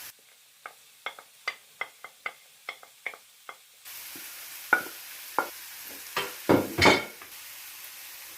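Carrot, capsicum and cabbage tossed into a hot pan for spring roll filling, giving a run of sharp, evenly spaced clinks and scrapes, then a louder continuous sizzle with bigger stirring scrapes near the end.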